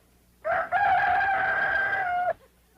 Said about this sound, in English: Rooster crows before he goes to bed.